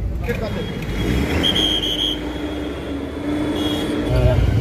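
A shared car driving out of Siliguri through jammed traffic, with a steady engine and road rumble, passing vehicles and a horn-like tone, while people talk inside.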